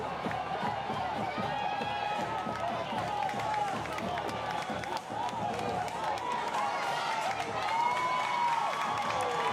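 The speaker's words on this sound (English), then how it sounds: "The crowd is loud" A loud, steady crowd roars and cheers through the stands at a high school football game, with a broad wash of noise that never lets up, some claps and calls mixed in, and voices talking underneath.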